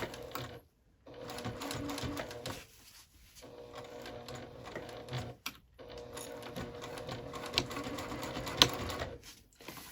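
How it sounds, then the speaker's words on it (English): A sewing machine back-stitches over a thick gusset seam on a handbag, running in close, steady whirring stretches broken by short pauses and a few sharp clicks. "That's that thick seam at the gusset, so I'm just back stitching over it because it's thick"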